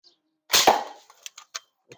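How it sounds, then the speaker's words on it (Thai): A single sharp shot fired at a lower target from a stainless steel shooting device, loud and close, trailing off into a few faint clicks and small knocks. "เดี๋ยวผมจะยิงจุดด้านล่างก่อน"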